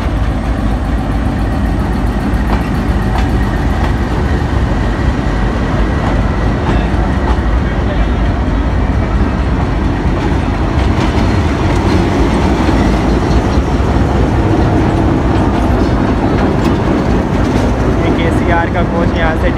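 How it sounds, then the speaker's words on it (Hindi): The passenger rake of the Millat Express rolls in loud and close, a steady rumbling clatter of wheels over rail joints with engine drone, continuous throughout while a voice speaks over it. "आ रहा है हमारा रेक आज का 18 डाउन मिलत एक्सप्रेस का"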